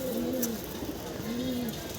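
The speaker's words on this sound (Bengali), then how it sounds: "নর কবুতরগুলো মাদি কবুতরগুলো আবার একটু খাবার দিছি" Pigeons in a loft coo softly while being fed at night, giving two drawn-out, low throaty coos with a faint background hiss.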